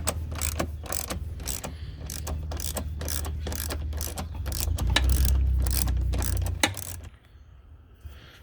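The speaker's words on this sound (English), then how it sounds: "The next step will be to remove this bolt right here with a 10mm socket." A ratchet with a 10mm socket works loose a bolt on a Ram TRX during a catch can install, giving a continuous fast clicking ratchet run that grows slightly louder, close up, then stops abruptly.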